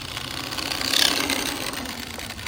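A nitro-fuelled two-stroke engine in an old big-block Traxxas Maxx RC car running, a harsh buzzing drone held steady and fairly loud, no talking.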